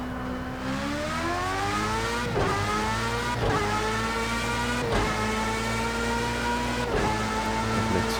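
A race car engine in Project CARS 2 at Monza, loud and close, revving up steadily with rising pitch, cut by several quick gear shifts that drop and climb again.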